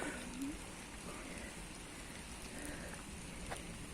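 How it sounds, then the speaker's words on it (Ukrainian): Steady rain falls and patters on surfaces, a soft continuous wash of drops, fairly faint, with a brief faint voice in the background. "Ще й дощ."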